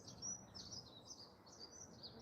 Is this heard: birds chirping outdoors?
yes